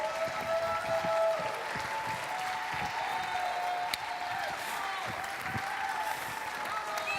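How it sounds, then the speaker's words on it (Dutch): Indoor conference audience applauding as a pastor comes on stage, with dense, sustained clapping filling the room at an even level throughout, a faint voice occasionally audible beneath it. "Laten we opstaan, laten we een applaus geven."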